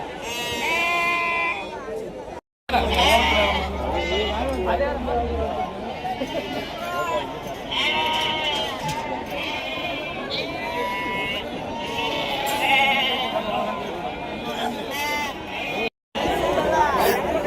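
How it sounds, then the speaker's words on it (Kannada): Young lambs or kids bleat repeatedly at a busy rural livestock market, their calls rising over steady crowd chatter and people talking nearby throughout. "ಚೆನ್ನಾಗಿರೋ ಮರಿನೇ ಬಂದಿದೆ ಸಂತೆಗೆ."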